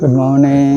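A loud cricket near Klong Root in Krabi keeps up a steady, high, unbroken trill while a voice speaks clearly over it.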